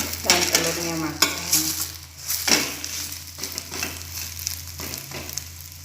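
A rolled omelette sizzles in a pan while a utensil stirs and scrapes, with irregular bursts of crackle over a constant low hum.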